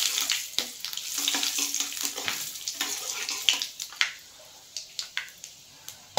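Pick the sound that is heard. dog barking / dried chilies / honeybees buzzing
dried chilies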